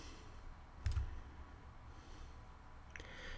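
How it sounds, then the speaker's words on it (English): A single mouse click on a computer, faint and close, with a second softer click near the end over quiet room noise. "I'm going to click the Finish button."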